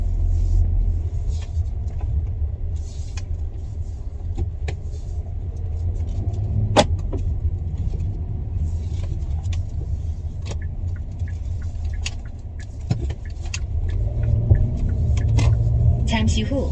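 Steady low engine rumble and road noise fill a car interior as it drives along a road, with a few soft clicks and knocks over a continuous drone that swells slightly near the end.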